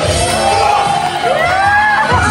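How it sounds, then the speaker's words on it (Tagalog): A wedding crowd at a provincial celebration cheers, whoops and shouts for the groom, a loud continuous roar of many voices with high yells rising over it and no break from start to end. "Palakpakan sigawan!"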